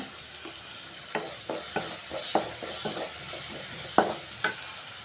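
Cooked rice being stirred in a pan with mint, coriander and curry leaves, a soft steady sizzle under irregular scraping and tossing strokes of a spoon, close and fairly quiet, with no talking.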